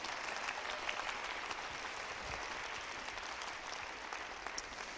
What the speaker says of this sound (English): Give him a round of applause for his great work in the horn section.